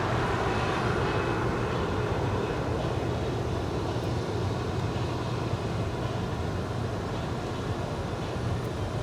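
A United Airlines Boeing 737-900ER airliner arrives at LAX, its engines a steady, broad roar that stays even and unbroken throughout.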